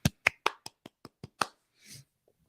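A few people clap in sharp, separate hand claps, about eight distinct slaps in a quick, slightly uneven rhythm, then a brief softer rustle. The claps are close and fairly quiet, with no talk over them.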